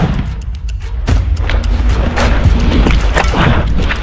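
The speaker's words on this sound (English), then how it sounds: "In response, the Ukrainian troops opened heavy fire and used grenade launchers." Heavy gunfire and grenade launcher blasts in a Ukrainian combat clash, loud dense bursts of shots and booming impacts piling over one another, close and continuous with rough outdoor noise.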